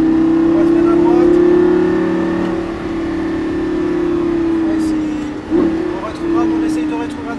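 A Lamborghini LP560 on a track roars loud and close, holding a strong engine note that dips as it downshifts under braking, with a brief blip and then climbs again.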